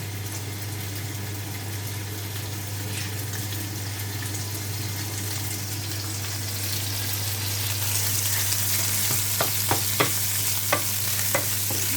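Bacon frying in a pan for homemade pizza, a continuous hiss over a low steady hum, with a quick run of utensil clicks and scrapes near the end, no talking.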